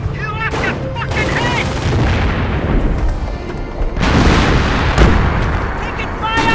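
A dense wartime battle in Company of Heroes: Opposing Fronts during the liberation of Caen, with continuous rifle and machine-gun fire broken by heavy booming artillery impacts, loud and close, with soldiers' voices shouting through the din.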